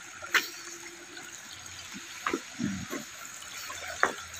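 Hot spring water at Taptapani trickles and flows softly in a low continuous wash, broken by a few faint splashes and drips.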